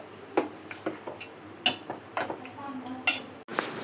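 Dal and palak (spinach) curry is mixed in a pan, a ladle tapping and scraping against metal in quick, irregular clicks. The taps are fairly close and moderately loud over a soft background hiss.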